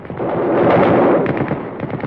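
A cannon-like weapon fires in an audio drama about a battle for a city, a loud, rumbling blast that swells and lingers for about two seconds, with no voices over it.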